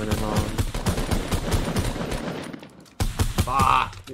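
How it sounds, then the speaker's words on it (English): Rapid Fortnite gunfire rattles in quick repeated shots for a few seconds, pauses briefly, then resumes in another loud burst, with players talking over the shooting. "See where I'm shooting?"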